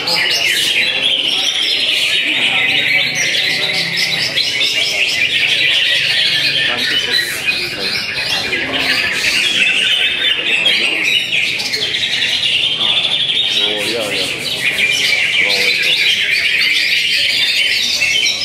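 A green leafbird sings loudly and continuously up close, a busy stream of shrill chirps, whistles and squawky phrases with barely a pause.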